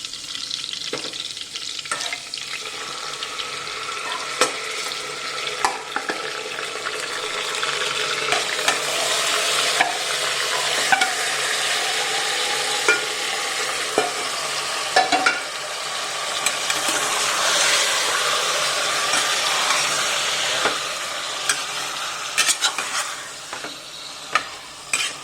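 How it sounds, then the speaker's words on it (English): Marinated mutton for haleem cooks in a pot in its own juices with no water added, giving a steady, loud sizzle and spatter that runs throughout with frequent stirring and scraping clicks. "now we have put the mutton for boiling"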